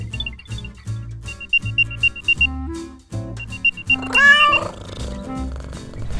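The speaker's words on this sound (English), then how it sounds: "you can make it play a sound to help you locate it" An Apple AirTag plays its locator sound: repeated high electronic chirps in short bursts over a low synthetic hum, followed by a brief rising warble, close and loud.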